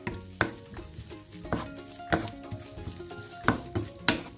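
Spoon stirring fish masala mixed with coconut milk in a pan, a soft sizzle under repeated sharp scrapes and clinks against the pan at an uneven rhythm.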